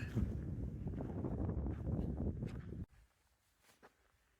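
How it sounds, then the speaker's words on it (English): Gusty wind buffets the microphone with a rough, rumbling roar for about three seconds, then drops abruptly to near quiet. "Windy up here."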